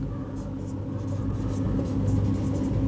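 Pen writing on paper in a class 10 trigonometry lesson, with soft scratchy strokes and faint scrapes over a steady low rumbling background hum. Close, quiet and continuous, with no voices.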